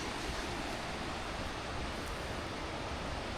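A swollen river in the Konkan monsoon near Mahad, running full of red muddy water, rushes in a steady broadband roar heard from some distance, with no pauses and no voices.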